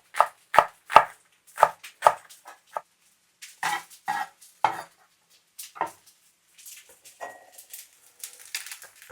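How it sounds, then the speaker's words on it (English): A knife finely chops green onions on a cutting board, a quick series of sharp taps that slows and spreads out into scattered lighter cuts, close and clear with no talk. "The thing I want to do now is chop up my green onions, the green part of my green onions."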